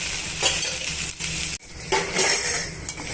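Sliced okra stir-fried in a pan over a low flame on the stove for a village-style fry, with repeated scraping, clinking spatula strokes against the metal and a steady sizzle, close and fairly loud, with no voices.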